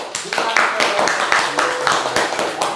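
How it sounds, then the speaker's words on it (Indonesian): Classroom applause during a lesson, a rhythmic round of claps in regular bursts from a small group of pupils, fairly close and with voices mixed in. "Kita beri tepuk tangan."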